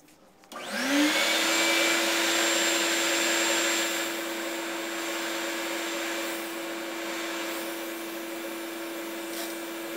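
A motorized sanding tool smooths the drilled thumb hole of a bowling ball, quickly spinning up to a steady high whine that stays loud and close before easing slightly and continuing evenly.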